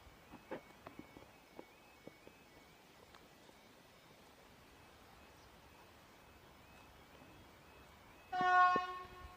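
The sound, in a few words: freight train passing level crossing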